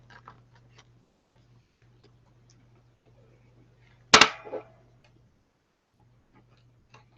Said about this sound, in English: As you can hear, I've got a glass tabletop I'm working on.